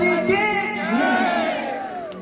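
Audience at a Chhattisgarhi live stage show cheers and shouts in unison, a loud, sustained mass of voices filling the space.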